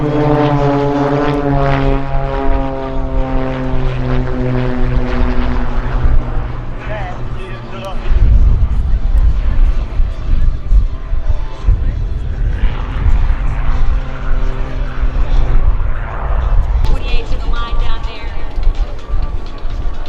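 A propeller airplane makes a low pass at the EAA AirVenture Oshkosh airshow near the warbirds area. Its loud droning engine sweeps in pitch as it passes, with people talking faintly underneath.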